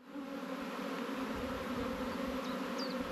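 Honeybees buzz steadily around a hive, a dense continuous drone that holds close and constant throughout, with no voices over it.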